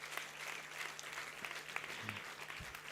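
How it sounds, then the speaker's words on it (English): University convocation audience clapping for an award recipient, a faint, distant, continuous patter of applause in a large hall. "Keep the applause going, keep it going, keep it going. We need a continuous round of applause."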